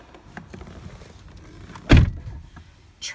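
Car door of a 2013 Hyundai Genesis 2.0T shutting with one loud, close thunk after quiet rustling as someone climbs in, followed by a softer knock near the end.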